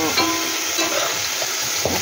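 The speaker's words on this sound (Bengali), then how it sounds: "মাছ ভাজা হয়ে গেছে" Fish fries in hot oil with a close, continuous sizzle and scattered crackles.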